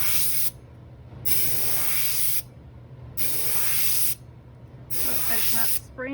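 Airbrush spraying paint for a fireworks effect, heard as four loud, close hissing bursts of about one to one and a half seconds each, separated by short pauses, over a steady low hum.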